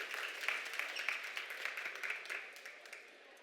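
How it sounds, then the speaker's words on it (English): An audience at a conference talk on the EU Accessibility Act in Leeds breaks into warm applause, moderately distant and steady, then tapering off. "we should actually give her a massive warm round of applause"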